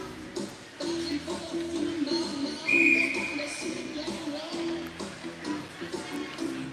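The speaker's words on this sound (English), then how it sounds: "As it's up into the ceiling, we get the whistle, as that is deemed out of play." Referee's whistle at a varsity high school ice hockey game in a tournament rink, a short piercing blast rising over the hollow arena murmur, crowd shuffle and distant calls.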